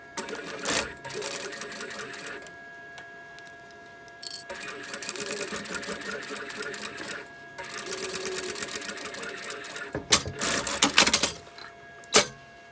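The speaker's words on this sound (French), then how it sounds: "Et je viens passer une couture, comme ceci." Sewing machine stitching a seam on a fabric ballerina pouch with zip, in several bursts of rapid mechanical whirring separated by pauses, ending with short sharp runs, close and fairly loud.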